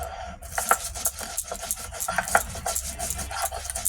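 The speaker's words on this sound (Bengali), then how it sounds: "আদা জিরে মরিচ বেটে নেবো" Ginger, cumin and chili are ground together into a paste, heard as close, rhythmic rubbing and rasping strokes that repeat unevenly, with brief scraping pulses and no speech.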